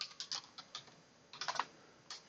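Fingers tap on a computer keyboard in quick, uneven bursts of light clicks, fairly close and quiet, with short pauses between the runs of keystrokes.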